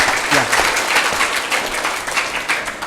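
Audience applause at a Catholic church talk show for a priest, Romo Postinus, a dense, steady clatter of many hands clapping continuously at close range with no voices over it.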